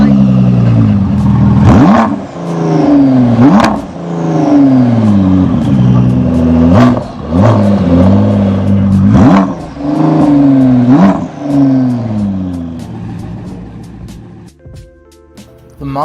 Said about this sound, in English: The Mazda rotary Wankel engine.